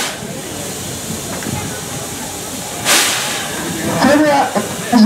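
Tobu C11 123 steam locomotive on the Kinugawa-Onsen station turntable releases a sudden loud burst of hissing steam after quiet ambience, followed by further hissing and faint voices in the background.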